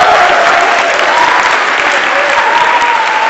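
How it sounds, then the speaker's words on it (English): A large audience of students at an all-students meeting applauds, producing a dense, steady wash of clapping that stays loud and even for several seconds with a faint crowd murmur underneath. "Give yourselves a big round of applause."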